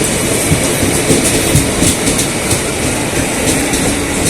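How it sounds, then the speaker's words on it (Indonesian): A Tokyo Metro 6000 series train, built in Japan and in service since 1977, rolls steadily along the rails with a continuous rumble and repeated clattering of wheels over track joints, loud and close. "Kereta tua ya teman, dari Jepang."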